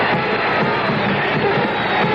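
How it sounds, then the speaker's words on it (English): Basketball fans in an arena cheer for Pete Maravich at a Knicks–Jazz game, a steady, muffled roar of crowd noise with babble, heard through a thin, old broadcast recording. "The fans cheering for Pete."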